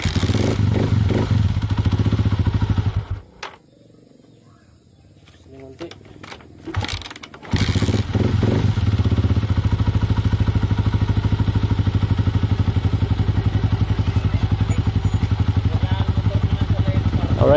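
A Rossi 150 motorcycle engine sputters briefly, goes quiet for a few seconds, then catches and settles into a steady, loud close-up idle, with voices talking over it.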